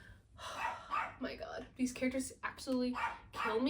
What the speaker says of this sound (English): Sorry if you heard barking in the back, it's just my dog.